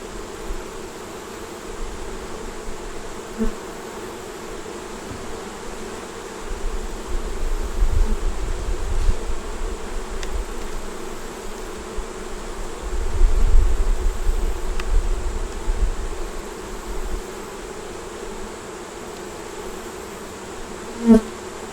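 A steady, dense buzzing of many bees fills the air continuously, swelling louder at moments, with no voices.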